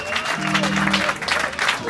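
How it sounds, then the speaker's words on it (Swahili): A church congregation at an anniversary celebration claps together in a brief burst of applause, with a voice carrying over the clapping. "Pigia huyu jamaa makofi mazuri"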